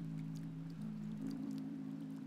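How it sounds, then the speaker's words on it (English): Steady rainfall in the video game OMORI, a continuous even hiss alone over a low droning background tone, with no talk. "at least there's some nice rain"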